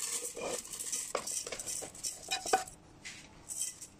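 Rice scooped into a pot with a metal utensil while making Chinese sausage rice in a rice cooker: a run of close scraping clinks and taps, busy at first, then sparser, with no talk.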